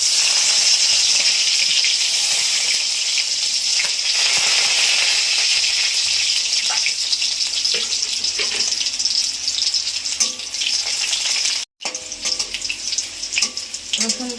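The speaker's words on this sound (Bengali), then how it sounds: "গরম হয়ে গেছে, রসুনটা দিয়ে দিচ্ছি তেলে।" Crushed garlic hitting hot oil in a wok and sizzling loudly, a dense steady hiss throughout with a brief drop near the end and faint clatter.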